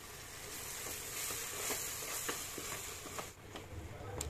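A ground paste for biryani is stirred into hot oil in a pot, making a soft, steady sizzle with a few light scraping strokes, fairly quiet throughout.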